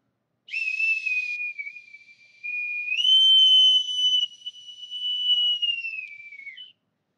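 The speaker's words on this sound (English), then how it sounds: "I will pipe you aboard with my authentic bosun's whistle from Newport, Rhode Island." An authentic bosun's whistle from Newport, Rhode Island, piping someone aboard: clear, shrill sustained tones in three phrases, the pitch stepping up and sliding down, loud and close with silence around it.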